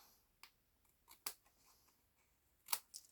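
Scissors snipping through cardstock while crafting Christmas cards, a handful of short, crisp cuts spaced irregularly, two sharper snips standing out, close and fairly quiet with no talking.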